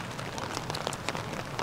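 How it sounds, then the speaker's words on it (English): Rain falling steadily outdoors, a soft continuous patter of drops on surfaces with no voices. "Oh my god, it's raining."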